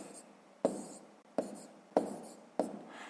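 A pen writes numbers by hand on paper during a 6th-grade maths exercise, giving four distinct close scratchy strokes, each a sharp onset followed by a short fading scrape, quiet and free of talk.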